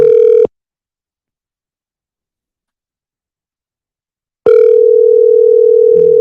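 A phone line gives a short burst of steady tone that cuts off into several seconds of silence, then a long, loud ringback tone sounds for an outgoing call, with a faint click near the end.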